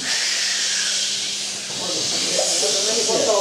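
People imitate wind with their voices, producing a steady, breathy hissing whoosh that holds at an even loudness for about three seconds.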